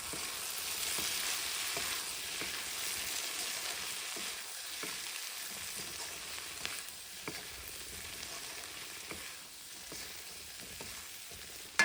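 Spices stirred into dry potato and pea sabzi in a pan, with a constant close hiss of frying and soft irregular scrapes and taps of the spoon throughout.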